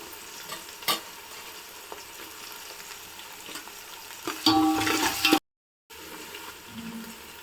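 Onions and green chillies fry in a pan for goat head curry, a steady sizzle with scraping stirs and a few sharp clatters, briefly cut to silence near the end before the frying resumes.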